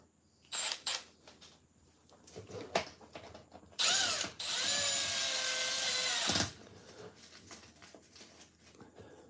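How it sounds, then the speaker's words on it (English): A power drill whines steadily for a couple of seconds as it bores through the hard shock towers of an M2C chassis on a Kronos XTR RC car, with clicks and handling knocks before and after. "Proper hard to drill through."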